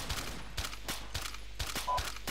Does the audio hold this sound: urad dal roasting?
no